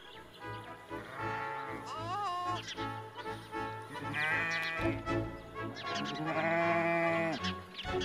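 Sheep bleat loudly and repeatedly as sheepdogs herd them into a kraal on a South African farm near Nieuwoudtville, with several overlapping, drawn-out cries close by over a steady background din.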